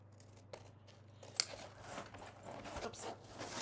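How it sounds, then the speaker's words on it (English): Fancy scissors snip paper strips into spiky edges in a few quiet, close cuts with small crisp clicks and rustles over a faint background hum. "this time I am going to use my fancy scissors"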